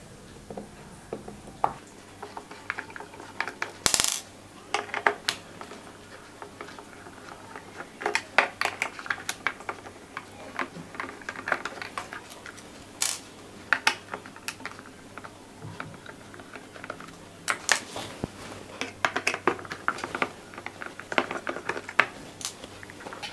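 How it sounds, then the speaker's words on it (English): Screws are taken out of a motorcycle instrument cluster on an Apache RTR, giving scattered small clicks, ticks and light metallic taps at close range over a quiet background. "I'm opening these screws."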